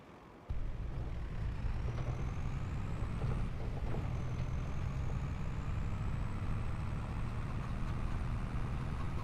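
Claas Xylon tractor engine in Farming Simulator 25, a steady loud low diesel drone with continuous rumble and faint high whine, running alone without talk throughout.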